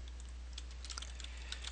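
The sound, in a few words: typing on a Commodore 64 computer keyboard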